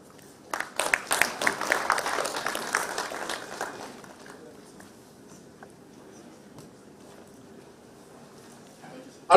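Applause from a conference audience rises after about half a second and lasts roughly three seconds before fading into quiet room noise, ending with a sudden knock.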